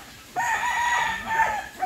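A rooster of an Oak Grove and Milson's Black cross gives a single loud, close crow lasting over a second, with a sustained middle and a short trailing end.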